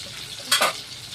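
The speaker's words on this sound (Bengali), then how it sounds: "মাছটা প্রায় ভাজা হয়ে গেছে, মাছটা আমার একদম ভাজা হয়ে গেছে" Katla fish frying in a pan gives a brief loud burst of sizzling spatter, with a quieter hiss continuing before and after.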